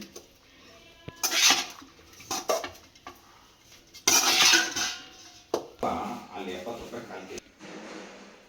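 Veg fried rice with pepper powder being stirred in a pan, with intermittent scrapes and clanks of a utensil against metal, loud strokes separated by quieter pauses.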